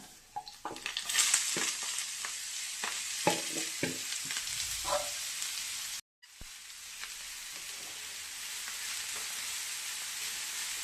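Vegetables fry and get stirred in a pan, with a string of close scraping and clattering stirs over a constant sizzle during the first half, then a brief dropout and a steadier sizzle without talk.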